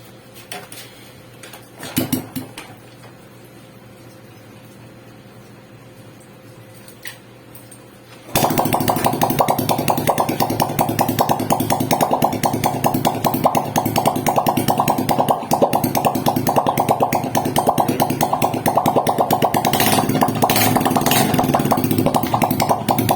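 After a few clanks, a Honda XRM125 motorcycle engine fires up and settles into a loud, steady, rattling idle that runs on unbroken.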